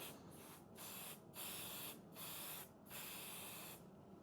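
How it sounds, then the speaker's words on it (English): A spray can mists one half of a piece of sewing fabric in several bursts of hissing, each a second or so long with short pauses between, heard up close but quietly. "then take your spray, and then we're just going to spray this half here"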